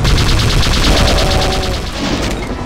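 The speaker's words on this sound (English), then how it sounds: "I'm charging my plasma gun." A plasma gun in the Brutal mod of the Doom video game fires a loud, rapid stream of rhythmic pulsing shots over a dense background of game noise, easing slightly near the end.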